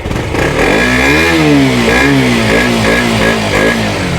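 A Yamaha R1 sport motorcycle engine is heard running close and loud, its revs rising and falling repeatedly in a series of throttle blips with no talk over it.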